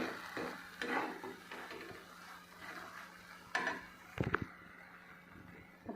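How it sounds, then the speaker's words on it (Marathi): Fresh red chilli chutney stir-fried in a pan over low heat, quiet scraping and clinking of a spoon against the pan in irregular strokes, with a couple of sharper knocks near the end and a faint sizzle beneath. "आणखी दोन तीन मिनिट मी हे छान असं परतून घेणार आहे"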